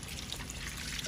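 Hot water pours into a pan of prawn curry with taro stolons, a brief, steady trickling splash at moderate volume with no voices.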